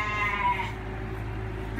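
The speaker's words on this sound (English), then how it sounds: "There's a goat standing up right here." A goat on a farm lets out one brief bleat at the very start, followed by low, steady background hum.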